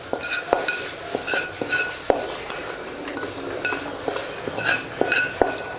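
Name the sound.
mustard tempering being stirred into sambar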